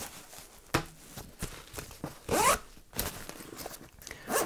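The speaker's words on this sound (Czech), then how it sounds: "Přístup do hlavní komory batohu je řešen pomocí dvoucestného zipu" A two-way zipper runs along the main compartment of a military-style add-on backpack for a vest, giving several quick, close rasping pulls with short pauses and handling rustle between them, with no talk.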